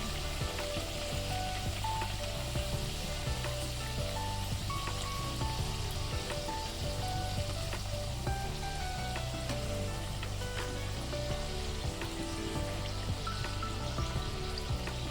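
Karanji pastries fry in hot oil with a steady, dense sizzle and crackle that runs unbroken throughout, close and fairly loud, with no talking.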